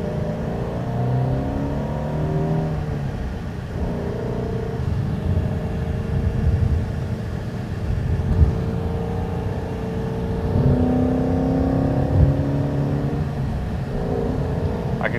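Ford Mustang engine rumbling steadily from inside the cabin while driving, a continuous low drone with mild swells as it accelerates, fairly loud throughout with no talk.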